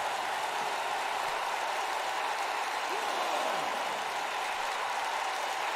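Virtual arena crowd in the WWE 2K19 wrestling game, a dense continuous roar of cheering and applause at steady loudness throughout, with no clear voices standing out.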